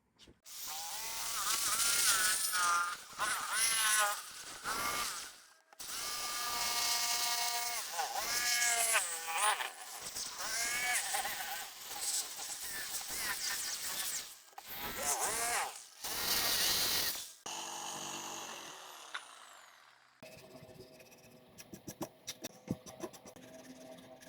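A power tool rounds over the corners of a wooden step stool in several loud, close bursts of whining, buzzing cutting with short pauses, followed by a winding-down whir and scattered clicks.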